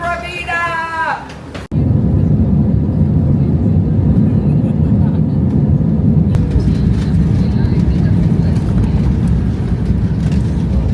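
Aircraft cabin noise on a plane bound for Costa Rica: a steady, loud broadband roar fills the space after a brief voice and a sharp thud, with a faint click partway through.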